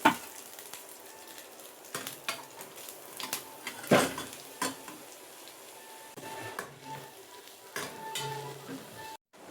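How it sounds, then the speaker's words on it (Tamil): Grated carrot is stirred into a pan for a home lunch dish. A soft sizzle sits under intermittent spoon scrapes and light clanks against the pan, fairly quiet and close, with no voices. "துருவன கேரட் சேர்த்துக்கலாம்."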